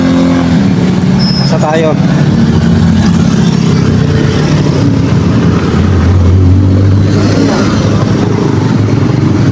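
A red motorcycle's engine runs and pulls away at a street corner, a steady low drone with a rising rev near the middle, mixed with other traffic while people talk over it.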